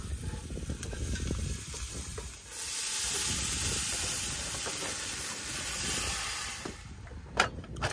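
Freshly caught fish frying in a pan on an island camping trip in Kuwait, a loud steady sizzle and hiss that surges after a few seconds, with a few clinks near the end.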